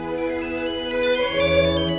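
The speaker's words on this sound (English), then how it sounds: "A mobile phone in the audience." A mobile phone ringtone plays loudly and continuously, a bright repeating electronic melody with steady sustained tones, standing alone with no voices over it.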